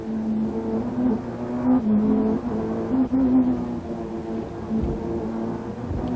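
Emanuele Pirro's touring car roars from an onboard position during a 1995 Italian Touring Car race, battling for ninth place. The engine holds a loud, continuous note with shifting pitch as it revs and changes gear.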